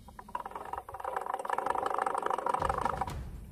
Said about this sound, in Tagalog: yung ingay ng makina. Ayan o, pakinggan nyo.